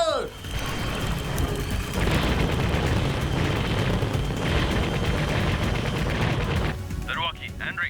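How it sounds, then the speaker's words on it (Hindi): The Earth Gun fires in an Ultraman Blazar battle, a loud, dense barrage of booming blasts and rapid shots sustained for several seconds before cutting off, with voices heard briefly. "यासुनोबु, फायरिंग शुरू करो। अर्थ गन फायर!"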